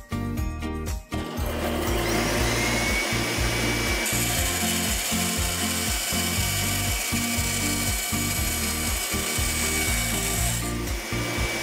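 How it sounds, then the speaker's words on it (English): A bandsaw cuts through aluminum stock with a steady, loud whirring rasp and a faint rhythmic pulse underneath, running continuously for the whole stretch with no voices. "I cut to the length that I needed and brought it really right over to the bandsaw"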